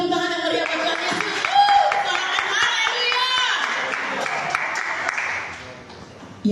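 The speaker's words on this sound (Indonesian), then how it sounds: "Beri tepuk tangan yang meriah bagi Tuhan Yesus." Church congregation clapping in praise at an Indonesian worship service, a dense sustained round of applause with a voice speaking over it that fades near the end.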